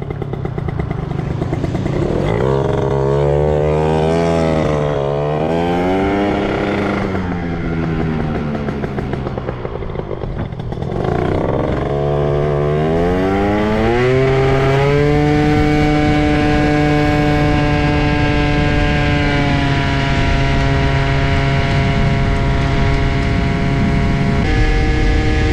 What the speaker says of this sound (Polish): Ale przyjemnie się skuterkiem jeździ w takie upały.